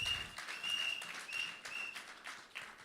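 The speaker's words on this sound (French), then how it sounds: "Let's clap for Jesus." A church congregation claps for Jesus, a steady crowd applause with rhythmic bursts of hands, moderately distant and fairly soft, with no clear talk over it.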